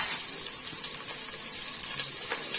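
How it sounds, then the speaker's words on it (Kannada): Onions sizzling steadily in hot oil in a pressure cooker, a continuous close crackling hiss with small pops, no voices. "ಸೇರಿಸ್ಕೊಂಡು ಈರುಳ್ಳಿ ಚೆನ್ನಾಗಿ ಫ್ರೈ ಮಾಡ್ಕೋಬೇಕು"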